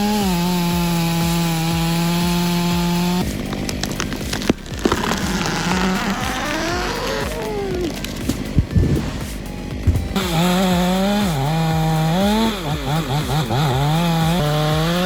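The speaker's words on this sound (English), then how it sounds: "You can see a perfect demonstration of the so-called dangerous chainsaw kickback." Chainsaw cutting into a tree, loud and close, its steady high whine breaking into bogging, strained revving as the saw kicks back, then returning to a sustained roar.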